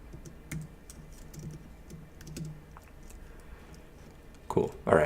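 Light clicks of typing on a computer keyboard, scattered and faint, with a short louder flurry near the end; a person speaks briefly as well.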